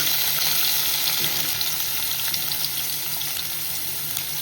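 Whole garam masala spices and onion frying in hot oil in a pot for chicken biryani, a steady close hiss of sizzling with faint stirring, heard alone.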